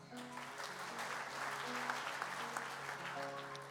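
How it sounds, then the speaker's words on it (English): Steady applause from a convention hall audience at a Kansas FFA session, heard at a distance and fairly faint, with a sustained musical tone and some held notes beneath the clapping. "giving this year's 5-star individual sponsors another round of applause"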